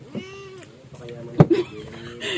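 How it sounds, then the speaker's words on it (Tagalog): A cat meows several times in short, rising and falling calls, heard close, while a person talks nearby. "Ay, pusa ba?"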